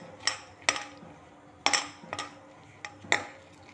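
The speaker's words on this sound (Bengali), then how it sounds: "এবার আমি এটাকে ভালো করে মেখে নেব।" A spoon clinks and scrapes against a bowl while egg, gram flour and chopped onion are mixed into pakora batter, giving about six sharp, irregular knocks close by.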